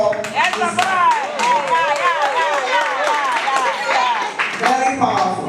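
An audience at a 2025 tech graduation ceremony claps for a certified graduate. Brisk clapping is loudest at the start and again near the end, with whoops and voices mixed in.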